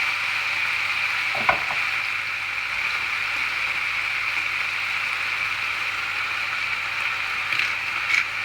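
Chicken satay sizzles in a pan on medium heat, a steady crackling hiss with occasional soft clacks as the pieces are flipped.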